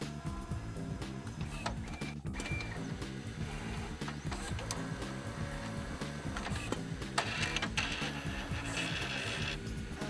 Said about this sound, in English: Printing is now complete